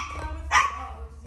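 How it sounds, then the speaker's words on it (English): A sick shelter puppy lets out one sharp, close bark, a single brief yap standing out over a quiet room hum. "Can you please stop barking at me?"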